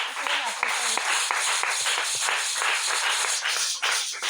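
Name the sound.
congregation applauding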